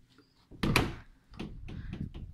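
Closet doors in a new Florida home are pulled open with a soft thump and a sliding rattle, followed by quieter shuffling, close and fairly faint.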